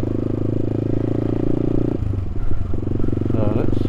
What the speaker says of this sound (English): this time, I'm out on the CCM Spitfire